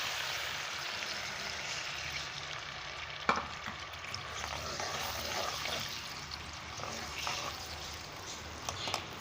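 Ground onion, tomato, garlic and ginger masala fries in a hot pot, giving a faint, continuous sizzle with occasional soft bubbling and a few small clinks.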